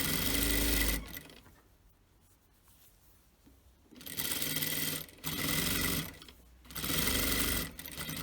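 A sewing machine stitches the hem of a kimono-style robe in steady, buzzing runs of about one to two seconds, separated by short pauses, close and clear with no talking.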